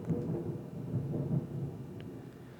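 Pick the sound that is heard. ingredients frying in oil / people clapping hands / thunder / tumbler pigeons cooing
thunder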